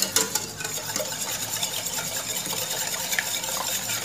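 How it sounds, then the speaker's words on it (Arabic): A spoon or whisk stirs powdered pastry cream mix into liquid in a bowl, producing soft continuous scraping and sloshing with faint clinks, close and quiet, with no speech. "غنخلطوه مزيان"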